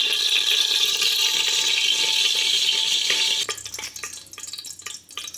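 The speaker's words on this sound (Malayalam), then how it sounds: "1 ടേബിൾ സ്പൂൺ എണ്ണ ഒഴിക്കാം." Cooking oil is poured into a pan for beef curry, giving a steady bright hissing pour that gives way to scattered crackling and light splashes, fairly quiet and close.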